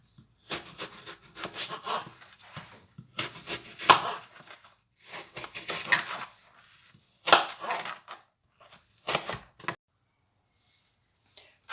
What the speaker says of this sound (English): Now I'm going to slice my apples.